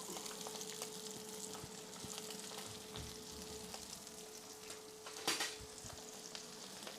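Sea bass fries in a pan with a faint, steady sizzle and crackle, broken by light scrapes and one brief louder clatter, with no talking.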